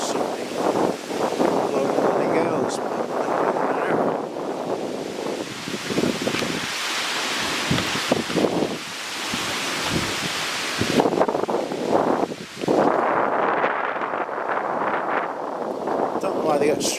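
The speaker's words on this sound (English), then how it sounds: "the actual wind's getting up a bit rough" Rough, gusty wind blowing through Bluebell Wood near Crewe, buffeting loudly with rustling leaves and swelling and easing in waves, while a voice talks intermittently underneath.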